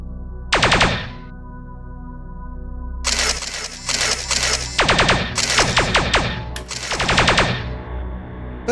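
Rapid bursts of automatic gunfire from a gun in the space game Spaceforce Rogue Universe: one short volley, then a pause, then several loud crackling bursts in quick succession with no talk over them.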